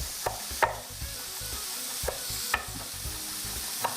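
Jambalaya mixture sizzles steadily in a hot pan for a Cajun-style sushi roll while a utensil stirs it, scraping and clicking against the pan at irregular moments over the constant frying hiss.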